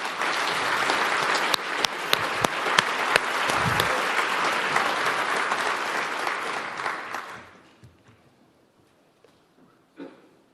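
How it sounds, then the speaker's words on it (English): An audience at a World Food Day event applauds the Pope with dense, sustained clapping for about seven seconds, loud and close, then it fades to near silence with a few stray claps. "Let's give the applause to the Holy Father."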